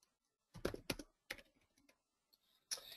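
Short bursts of typing on a computer keyboard at a command console, a few quick clusters of key clicks separated by pauses, fairly close and quiet.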